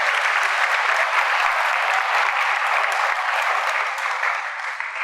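Audience applause at a church service fills the space with a dense, steady clapping that holds strong throughout and only begins to thin slightly near the end.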